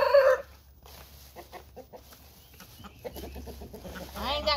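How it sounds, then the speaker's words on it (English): Backyard chickens cluck in quick, soft bursts while pecking at food, with a louder squawk at the start and livelier clucking toward the end, close by and steady throughout. "The chickens eating chicken, baby."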